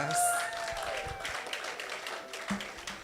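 Summit attendees give a round of applause, a soft, fairly distant patter of clapping with faint voices mixed in beneath it.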